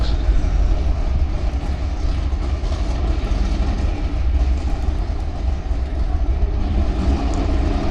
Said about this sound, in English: Green light for the Mazda and a green light for the Mustang.